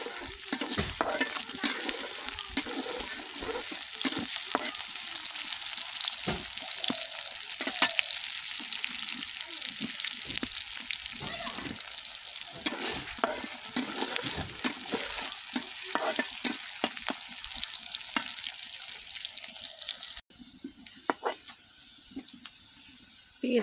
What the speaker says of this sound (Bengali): এখন একটু তেল দিয়ে দিলাম, পেঁয়াজ দিয়ে দেব।